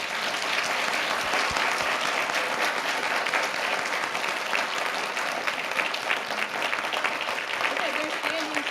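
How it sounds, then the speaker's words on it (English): A sustained round of applause from an audience at an afternoon talk on autism, dense and steady throughout, with some vocal noise mixed into the clapping. "I wanted to give Jeremiah a huge round of applause"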